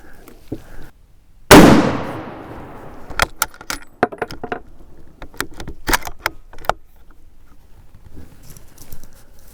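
A 1917 Remington .30-06 rifle fires during load testing, one sharp loud crack followed by scattered clicks, clatter and light knocks from handling at close range, with no speech.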